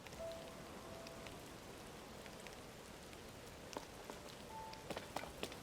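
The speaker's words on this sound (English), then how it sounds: "And unfortunately it's raining" Rain falls as a soft, steady hiss in The Legend of Zelda: Tears of the Kingdom. A few scattered drops patter and tick toward the end. It stays faint and even throughout.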